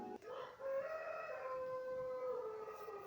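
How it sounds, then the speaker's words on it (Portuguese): A rooster crows once, a drawn-out tonal call that sounds faint and distant. "Eu odeio esse galo."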